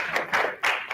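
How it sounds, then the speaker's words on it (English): An audience clapping at a tournament draw event, heard as bursts of applause in waves, moderately loud and without speech over it. "Please clap for him."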